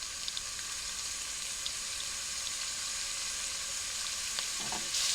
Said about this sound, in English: Alright, the oil's nice and hot. I'm starting to place my strips into the pan.